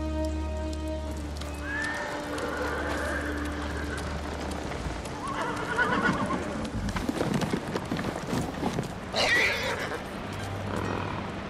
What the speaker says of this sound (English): You look just like my father's horse.